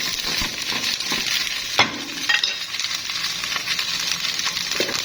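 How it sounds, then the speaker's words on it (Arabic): Green beans sautéing in a hot pan give off a steady close sizzle, broken by a few sharp stirring scrapes and light clinks of utensil against the pan, with no talking. "هننزل بالفاصوليا. ماشي، هنشوحها."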